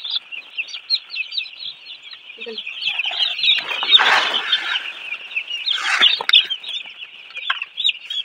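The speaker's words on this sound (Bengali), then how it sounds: "ব্রয়লারের বাচ্চা দেখুন হয়েছে।" A crowd of broiler chicks peeping continuously in a high, dense chorus, with a few louder clucks from chickens and rustling in between, fairly close.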